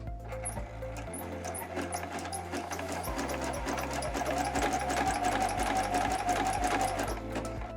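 Sewing machine running a zigzag stitch on fabric for a leaf-shaped zipper pouch, a fast continuous close whirr with a rapid needle rhythm that shifts pitch slightly a few times.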